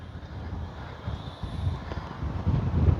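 Low, gusty wind buffets the microphone at a radio-controlled Dynam Me 262 jet flying field, rumbling unevenly and growing stronger toward the end.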